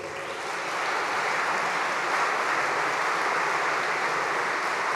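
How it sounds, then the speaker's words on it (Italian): Audience applause fills an award ceremony as a plaque is collected, a broad steady wash of many hands clapping that swells slightly after the start and holds, with no talk. "Senti che applauso, complimenti."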